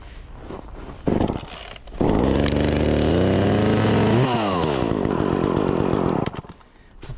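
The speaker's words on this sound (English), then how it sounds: "Give the primer a couple squeezes, pull the choke out, flip up the on switch, and give her a rip." An Echo chainsaw is pull-started, with a couple of rough pulls before the engine catches and roars loudly nearby. It revs up and down for several seconds before dropping back toward idle.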